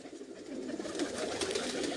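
Pigeons in a loft of high-flying breeding birds cooing, low soft rolling coos repeating close by and moderately faint over a light background hiss.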